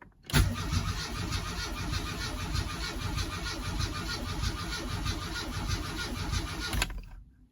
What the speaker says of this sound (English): let's just crank it up, get the oil pressure in the engine